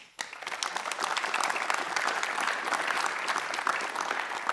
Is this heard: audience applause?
yes